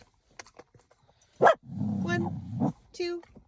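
Dogs bark in a busy public space during service dog training, with a couple of sharp close barks standing out among other sounds and a person talking nearby.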